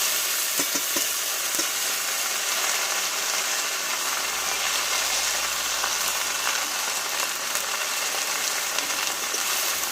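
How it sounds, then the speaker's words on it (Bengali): Chopped, washed jute leaves hit hot oil in a pan for a vegetarian Bengali greens dish, giving a loud, steady, close-up sizzle and frying crackle that lasts throughout, with stirring and no voices. "এবার কেটে ধুয়ে রাখা শাকগুলো আমি ঢেলে দেবো"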